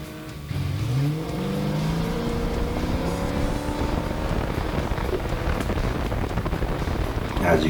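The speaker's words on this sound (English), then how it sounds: "Here's a little bit of an autocross video of it." Car running an autocross course, its engine revving up through gears with rising and falling tones, loud and steady, overlaid with wind buffeting the microphone.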